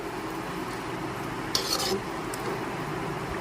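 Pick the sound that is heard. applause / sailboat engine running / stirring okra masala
stirring okra masala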